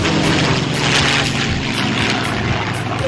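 Warbird propeller aircraft flying past at an air show tribute to veterans, a broad droning engine roar that holds fairly steady and loud throughout, with no voices.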